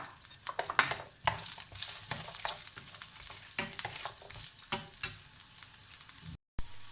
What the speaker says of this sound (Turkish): Havuçlarımı birkaç saniye soteledim. Şimdi kırmızı biberlerimi attım içine.